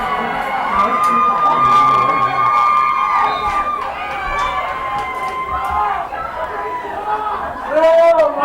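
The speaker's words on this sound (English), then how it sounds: "And a lot of cheering by the Plattsburgh High School fans" Plattsburgh High School fans cheering and chattering in a gym during a boys' basketball game against Saranac, a steady loud crowd roar with shouts throughout and a swell near the end.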